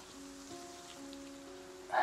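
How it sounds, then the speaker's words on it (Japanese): Light rain pattering steadily on a surface, soft and fairly even, with a faint tonal hum underneath and a brief louder burst at the very end. "ああ雨が弱くなってきたなあ"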